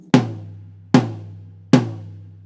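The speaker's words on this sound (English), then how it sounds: "and the floor tom will sound like this" Three evenly spaced strikes on a low, deep tom drum, each with a booming sustained ring, played alone at close range.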